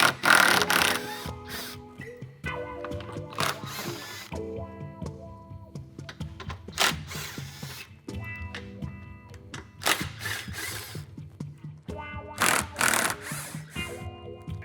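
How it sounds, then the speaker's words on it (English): Screws come out of the underside of a truck bumper one after another, each removal a short burst of mechanical whirring and clicking, separated by pauses and close by. "we're going to go ahead and finish off by taking all the screws out of the bottom of this bumper"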